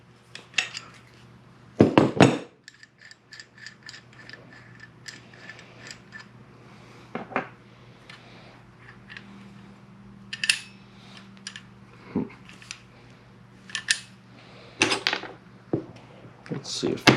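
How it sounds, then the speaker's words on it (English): A comically oversized wrench works on a Victor welding regulator, giving scattered metallic clanks, taps and clicks. A sharp clatter comes early, then sparse knocks over a faint steady hum. "So I'll use this comically oversized"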